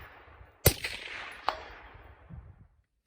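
Two muffled rifle shots fired through a Bowers suppressor with a Griptastic cover crack at a distance, each followed by a fading ring, with faint ambient noise between them.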